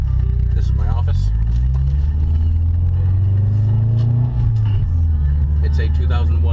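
A 2001 Subaru Forester fitted with a full STI exhaust runs with a steady, loud low rumble throughout, with a voice talking over it.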